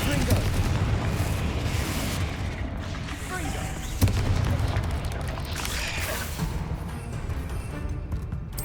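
Confringo blasting spell in the Hogwarts Legacy game: a sharp magical explosion bursts out of a dense, continuous wash of rumbling game effects and ambience.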